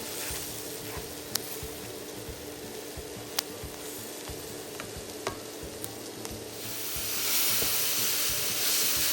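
Steak sauce and teriyaki sauce sizzle in a pan with Salisbury steak patties, a continuous close hiss with small pops that swells louder near the end.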